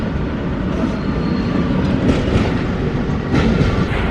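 A train of long freight cars rolls steadily along railway tracks, a loud continuous rumble with clattering wheels throughout, heard from close by.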